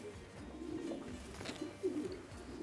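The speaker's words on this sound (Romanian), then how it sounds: "E din aceeași familie de porumbei, că Iuri cu familia lui zboară." Racing pigeons coo softly in a loft, several low throaty cooing calls rising and falling over a faint background hush, with no voices heard.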